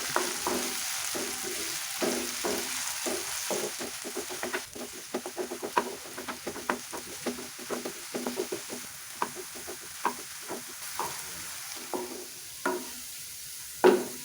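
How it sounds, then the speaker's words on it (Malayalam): Ripe plantains sauté in a pan with a steady sizzle, while a spatula keeps stirring and tapping in quick, irregular strokes, close by and with no talk. "ഒരു ഗോൾഡൻ നിറമാകുന്ന വരെ വഴറ്റിയെടുക്കാം"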